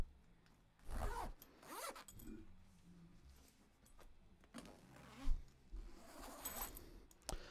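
A zipper closes around a synthetic leather keyboard case in several quick, close rasping pulls separated by short pauses and soft handling rustles, fairly quiet overall.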